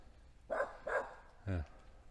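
A dog in a fall provincial park campground lets out three sharp barks in a row at moderate distance, each one separate, over a quiet outdoor background.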